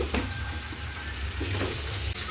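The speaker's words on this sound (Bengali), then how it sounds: "তো আমি তো মাছ ভাজা বসাই দিছি" Fish fries in hot oil, giving a steady, close sizzle that crackles on without a break and is heard alone.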